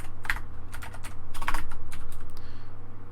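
Code being typed on a computer keyboard, with quick clusters of close, crisp key clicks, a short pause, then another burst over a steady low hum.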